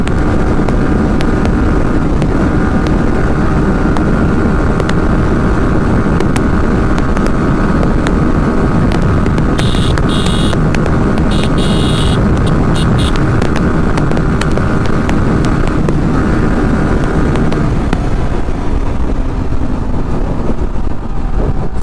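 A 2024 Yamaha R15S motorcycle ridden flat out in sixth gear, a loud continuous engine drone buried in heavy wind rush, steady and unbroken throughout.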